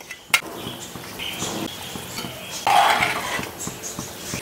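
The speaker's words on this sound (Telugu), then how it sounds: "ఇందులో గుడ్లు వేసుకుందాం." Eggs go into a pot of simmering tamarind egg curry with a run of light clinks and taps of utensils against the pot, then one louder clattering knock partway through, all close up and without speech.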